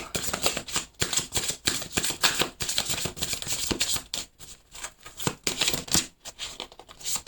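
A tarot deck is shuffled up close in quick, papery bursts of riffling and sliding cards, with brief pauses between rounds and no voices.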